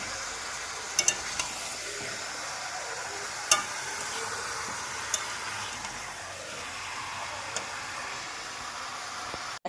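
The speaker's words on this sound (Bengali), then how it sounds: "মাংসটা না একটু ভেজে করবো, তাই জন্য পেঁয়াজে ভেজে যে মাংসটা চাপিয়ে দিয়েছি" Chicken frying with onions in a pan hisses in a steady close sizzle throughout, dotted with a few sharp pops and clicks of stirring.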